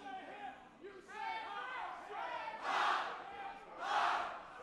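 Wrestling crowd cheering and shouting for a debuting wrestler, Harry Henderson, at a PPW show: loud, swelling waves of crowd noise with two big surges, mixed with chatter and yelling in a busy venue.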